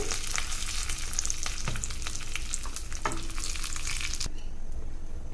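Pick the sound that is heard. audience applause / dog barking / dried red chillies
dried red chillies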